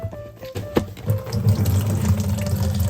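Water runs from an opened sprinkler-system silcock valve into a bucket, a steady close rushing pour that starts after a few brief knocks and holds loud and continuous.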